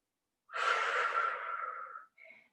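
A single long, close exhale during a vinyasa yoga flow, a smooth breathy rush lasting over a second and fading out, followed by a softer short breath.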